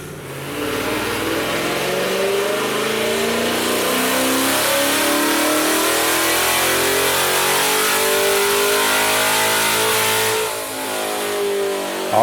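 A C8 Corvette with a full bolt-on package, running on E85, revs hard on a dyno, a loud, steady engine roar that holds through the run before easing slightly near the end.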